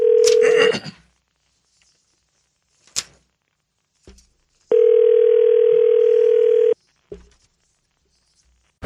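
A landline telephone emits a steady dial tone in short bursts, broken by faint clicks and handling noises, then a longer tone holds for about two seconds before cutting off, loud and close with no speech.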